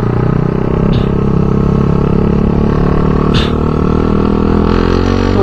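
Motorcycle with a refibered exhaust muffler on a cold start, idling with a loud, raspy, cracked-sounding drone that holds steady throughout, close to the microphone.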